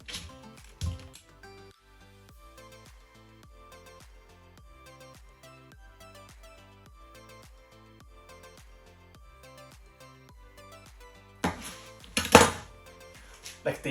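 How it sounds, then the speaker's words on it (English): Cucumber chopped into slices with a knife on a board: a steady run of quiet, evenly spaced chops, then a louder clatter and handling near the end. "I'm going to quickly peel the cucumber and chop them to slices."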